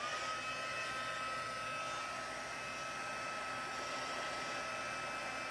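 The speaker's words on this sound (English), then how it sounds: "And we've got our heat tool. It's going to be loud again for a second." Embossing heat tool blowing hot air in a steady, loud, unbroken whoosh with a faint high whine, close up and constant throughout.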